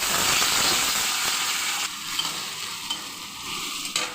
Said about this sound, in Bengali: এটা একটু ভাজা ভাজা হয়ে গেলে আমি এর মধ্যে দিয়ে দিচ্ছি গাজর